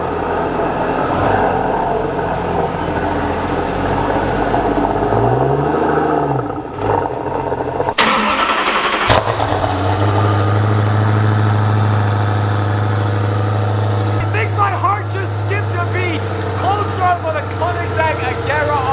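Koenigsegg Agera R hypercar with Mansory carbon body kit fires up mid-clip with a loud burst, then settles into a steady, deep, close idle hum, with people talking over the engine throughout.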